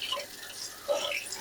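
Tap water runs while a kitchen knife is rinsed off during pork cutlet prep, a soft steady splash that swells briefly near the end.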